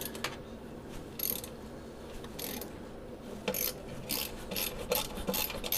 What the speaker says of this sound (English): Yeah, get a ratchet.